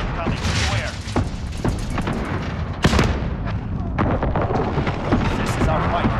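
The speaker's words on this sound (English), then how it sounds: "Allied precision airstrike incoming" Call of Duty Modern Warfare Ground War multiplayer, where loud, close precision airstrike explosions and booming gunfire pile up into a dense battlefield roar. Radio voice callouts play over the blasts.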